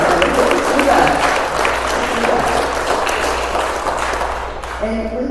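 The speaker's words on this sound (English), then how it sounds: "let's applaud that" An audience at a Dolores Huerta event in Reedley, California applauds steadily for several seconds, a dense wash of many hands, before a voice begins speaking as the clapping fades.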